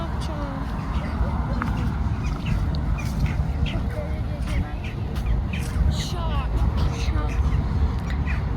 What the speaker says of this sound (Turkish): Bak bu değişik kuşlar var.